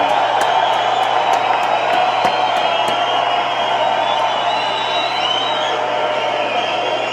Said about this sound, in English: He deserves that applause, though.